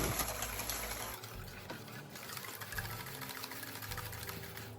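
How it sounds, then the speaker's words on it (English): Eggs and sugar being whisked in a bowl for a red velvet bubble waffle batter, a steady, continuous mechanical whirring that runs close and loud throughout with no talk. "so we're gonna whisk it for approximately 5 minutes here"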